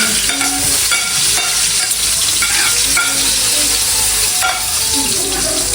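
Ginger sizzles and fries loudly in a hot pan for native chicken adobo sa gata, a steady continuous crackle with occasional stirring scrapes throughout.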